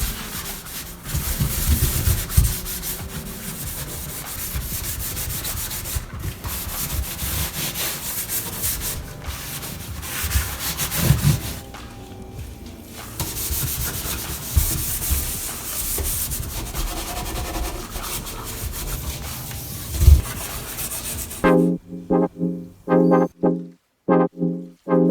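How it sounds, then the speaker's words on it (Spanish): Scouring pad scrubbing a stainless steel kitchen sink with a little vinegar, a steady rough rubbing that runs for about twenty seconds before giving way to a short burst of rhythmic pulsing near the end. "con el estropajo o con la talladera que tengan, tantito vinagre, vamos a empezar a tallar"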